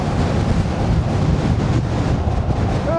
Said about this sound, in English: Oh, it's really windy down here.